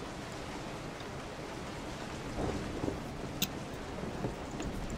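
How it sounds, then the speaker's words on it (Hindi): Heavy rain pours steadily in the horror game Resident Evil 7, a dense even hiss at low level with a few faint thuds and drips standing out over it. "इतनी तेज बारिश हम में होने लग गई"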